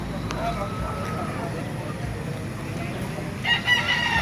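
Chickens and a rooster at a poultry market in Bocaue, with a brief crow and clucking amid steady crowd noise and chatter nearby.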